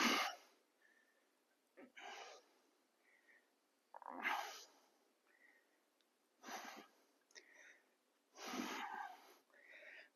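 Heavy breathing during a compound workout, with five loud breaths, each a long noisy push of air, spaced about two seconds apart, close and alone, with quieter rasping between them.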